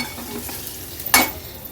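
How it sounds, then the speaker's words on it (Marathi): A spoon stirs turmeric into a tempering in a pan over a light background hiss, with one louder scrape near the end. "हळद पण व्यवस्थित मिक्स करून घेते."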